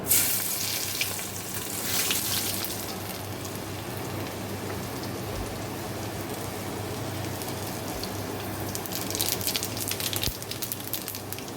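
Garlic sizzles in hot oil in a pan where prawns have just been fried, a continuous crackling hiss with scattered pops and a soft stirring now and then, close and steady with no talk.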